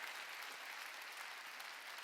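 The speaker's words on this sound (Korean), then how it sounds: "박수를 치려면 세게 쳐요" Steady clapping from a church congregation during a Korean Wednesday worship service, an even, continuous patter of many hands heard fairly quietly with no voices over it.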